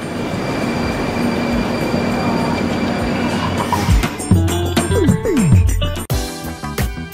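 A metro train at Victory Park, the deepest station on the line, rumbles steadily and then brakes with rising wheel squeals and clanks as it slows, loud and close.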